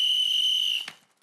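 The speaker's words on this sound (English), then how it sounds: "These are our emergency whistles." An emergency whistle gives one steady, shrill, piercing blast that holds close and loud for most of a second, then cuts off sharply with a brief breathy puff.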